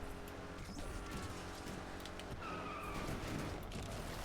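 A Lamborghini Murcielago LP 670 skids through a drift in a racing game, tyres hissing and scrubbing steadily over a constant engine and road roar for a few seconds, with no talking.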